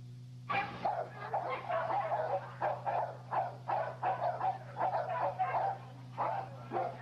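An American Pit Bull Terrier puppy barks in a rapid, uneven series of sharp yips and barks close by, over a steady low electrical hum.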